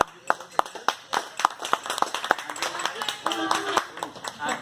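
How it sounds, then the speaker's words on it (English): Audience clapping at a live comedy performance at The Parlor for a volunteer named Michael; it starts with a few sharp, separate claps and swells into fuller applause, with voices talking over it. "A big round of applause for Michael"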